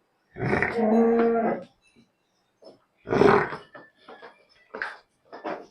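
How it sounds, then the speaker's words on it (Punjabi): A Dheli buffalo at a livestock fair lets out one long, loud, close bellow, followed by shorter, quieter sounds and voices. "ਢੇਲੀ ਮੱਝ ਆ ਵੇਖੋ ਜੀ"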